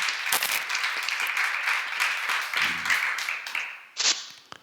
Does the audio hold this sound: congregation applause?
yes